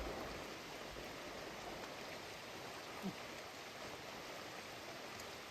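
Continuous steady rain, a soft broadband hiss of drops falling on surfaces, even and unbroken throughout.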